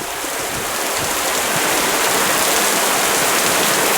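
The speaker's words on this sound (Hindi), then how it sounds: "तेज पानी शुरू हो गया, तेज बरसात होने लगी।" Heavy rain pours as a dense, loud, unbroken hiss that stays constant throughout, with no voices.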